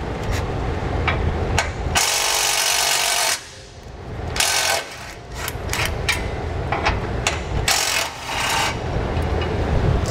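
A power tool with a 13 mm socket loosens the bumper beam bolts on a 2017 Chevrolet Colorado, giving several loud, rattling bursts between quieter clinks and handling noises.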